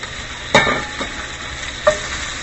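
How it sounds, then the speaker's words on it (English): Sausages from a fresh deli sizzling in a frying pan for an Irish breakfast, a close, steady hiss broken by two sharp bursts as they drop in and get moved around. "Now I'm going to throw the sausages in."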